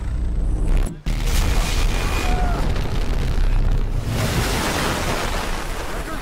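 An EMP blast goes off in the Battlefield 4 video game's Shanghai mission: a sudden cutout, then a loud, sustained, rumbling roar of broadband noise that slowly settles without fading out.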